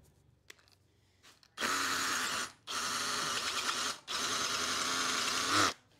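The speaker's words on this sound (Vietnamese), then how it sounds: "cái mũi khoan này là mũi khoan 12 và đây là cái à, bê tông được à, trộn sỏi anh em nhé mà nó đục khá là khỏe à, mà nó khoan rất là khỏe" Milwaukee M12 CH hammer drill boring into gravel-mixed concrete with a 12 mm bit: three loud, close bursts of harsh, gritty hammering separated by brief pauses, after a quiet lead-in.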